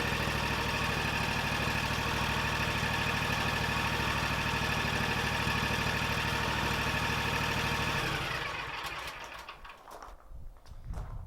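A lawn mower engine idles loudly and steadily up close with a constant low rumble, then winds down and stops near the end, leaving a few faint rattles.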